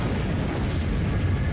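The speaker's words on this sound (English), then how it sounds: "Within minutes, the fireball entered our atmosphere and violently exploded above Siberia's" Explosion sound effect representing the Tunguska fireball bursting over Siberia's forest: a loud, dense, sustained rumbling roar filling the whole moment without letting up, heavy in the low end.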